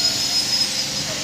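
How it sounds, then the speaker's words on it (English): A MEMU commuter train on the Hoodi to Whitefield line draws to a halt at Puri Halt station. Steady rumbling rail noise runs beneath a thin, sustained high brake squeal, loud and close. "And the train has finally reached its unscheduled halt, SGT."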